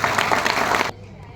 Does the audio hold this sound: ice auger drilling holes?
no